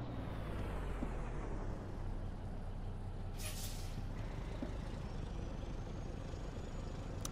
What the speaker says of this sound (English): I dropped it out of gear and was lightly holding in the brake since this truck has ABS.